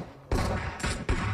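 Close gunfire in the mobile battle royale game PUBG Mobile, three sharp loud shots in quick succession, each followed by a short ringing decay.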